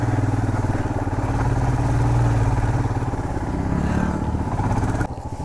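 A motorcycle carrying two riders labours along a rough, steep mountain road near Bijanbari in Darjeeling, its mid-pitched engine droning steadily and close for several seconds before easing slightly at the end.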